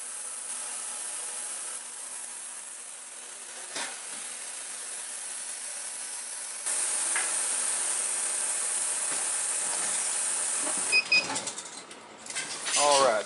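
A commercial-grade 15 litre ultrasonic cleaner runs with a steady broadband hiss and faint tonal hum, its level stepping up partway through, then a few clinks and rustles near the end.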